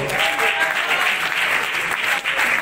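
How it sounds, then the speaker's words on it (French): Audience at an awards ceremony breaks into loud, sustained applause, a dense wash of clapping that stays strong throughout with only a brief dip near the end. "est-ce qu'on peut applaudir bien fort?"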